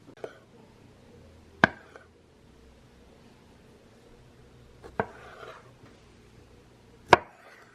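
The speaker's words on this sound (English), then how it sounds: "Gotta get some nice cherry tomatoes chopped up." A knife chops cherry tomatoes on a board in four sharp, isolated thuds spaced a few seconds apart, with quiet room noise between them.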